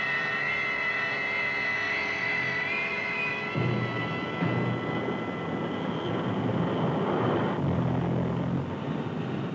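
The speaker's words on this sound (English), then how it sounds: "Strategic Air Command immediately begins dispersing its aircraft" Strategic Air Command military aircraft roar on a 1963 recording, a loud sustained engine drone with a high whine that shifts into broader rumbling noise, steady throughout with no talk.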